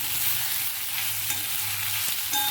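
Ginger garlic paste sautés in a pan for a mixed vegetable bhaji, giving a steady close sizzle of frying with faint scraping as it is stirred, and no voices.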